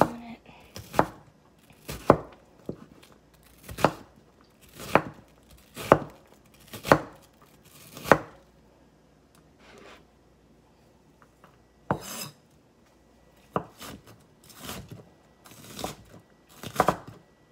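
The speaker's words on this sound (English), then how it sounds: "this I'm going to chop up relatively fine" A knife chops an ingredient finely on a board for garlicky guacamole, a run of sharp, evenly spaced close thuds with a short pause midway before the chopping resumes.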